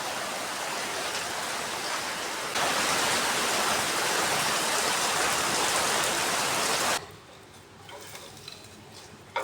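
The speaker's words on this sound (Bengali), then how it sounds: "থামার নাম নেই, চলছে চলছে চলছে, কী অবস্থা, বৃষ্টি চলছে।" Heavy continuous rain falling outdoors, a dense steady hiss that grows louder partway through and then abruptly drops to a softer, more distant patter near the end, with no talking.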